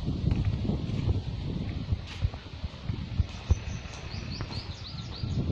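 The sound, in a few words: birds chirping in a garden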